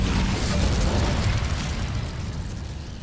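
A fire spell blast cast in Hogwarts Legacy, a loud, sustained roaring burst with deep rumble that stays strong throughout, tapering slightly near the end.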